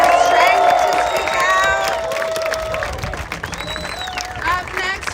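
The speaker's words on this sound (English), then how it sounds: "Let's all give another round of applause to Danger and Amber Meredith for their stren" Crowd at an outdoor climate protest by the White House claps, cheers and whoops steadily throughout, with shouted voices and whistling tones riding over the noise.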